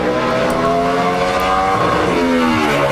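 NASCAR Sprint Cup car engine at full throttle during qualifying at Martinsville, a loud, sustained high-pitched roar with shifting harmonics as it pushes against the rev limiter, heard close with no talking.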